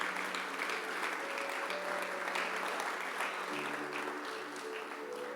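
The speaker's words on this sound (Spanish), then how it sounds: "le damos la bienvenida con este aplauso." Applause of welcome from a church congregation at a Saturday afternoon service, a continuous even wash of clapping hands heard alongside sustained tonal sounds, moderately loud and steady throughout.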